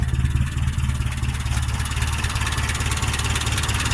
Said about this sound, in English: This is the best idle that this truck has ever had.